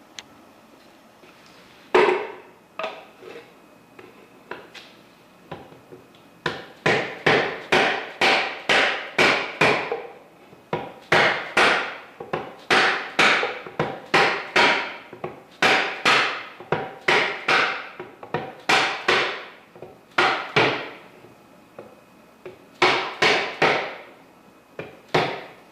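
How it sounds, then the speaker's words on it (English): A mallet strikes the top of a hammer to drive a planetary gear out of an NP241 DHD transfer case housing, producing a long series of sharp metallic taps in quick, irregular bursts that are loud and close. "tap on the top of the hammer with a mallet, and that should drive that planetary out of the housing"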